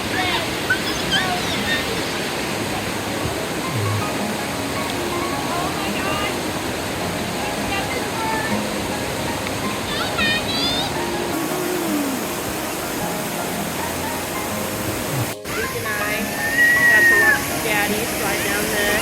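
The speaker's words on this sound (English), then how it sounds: "This is one of the cooler cascading falls I've seen. It's just a large granite rock in the water just sliding down." A cascading waterfall sliding down a large granite rock at Stone Mountain, North Carolina, gives a constant rushing wash of water close by, with people talking over it and a voice now and then.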